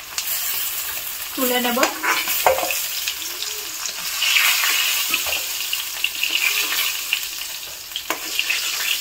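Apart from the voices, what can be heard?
fish frying in a pan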